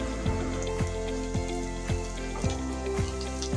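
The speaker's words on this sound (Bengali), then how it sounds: "এই তো আমি নেড়ে চেড়ে ভেজে নিচ্ছি।" Onion, green chili and garlic fry in a pan with a steady sizzle while a spatula stirs them, knocking against the pan in regular taps about twice a second.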